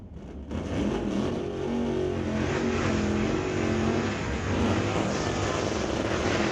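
Super Shifters class race cars on a drag strip in a final round, engines roaring loudly and steadily with a rising, sustained drone for several seconds, no talking.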